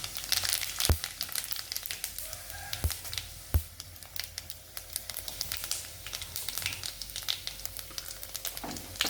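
Dense crackling and popping of cumin seeds frying in hot oil, with a few sharper snaps standing out, steady and close with no talk.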